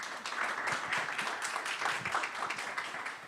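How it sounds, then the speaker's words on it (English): Applause from the few people attending a Hispanic Chamber of Commerce of Louisiana panel event, a thin, steady patter of clapping from a small indoor audience that stays fairly quiet throughout. "a round of applause for them."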